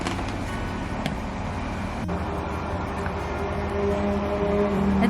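Steady street traffic rumbles outdoors as a constant roadway drone, with no distinct passes standing out and a slight swell toward the end.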